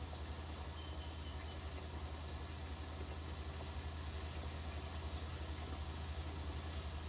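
Steady, low tractor engine drone pulling a cultivator across a field in Farming Simulator 19, a constant hum without pauses, quiet and alone.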